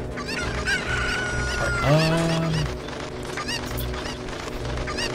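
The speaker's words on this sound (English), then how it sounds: "I may actually need to save that last chicken." A chicken in The Legend of Zelda: Ocarina of Time lets out a few loud, near, honking squawks and clucks over a busy game background, with one brief spoken word.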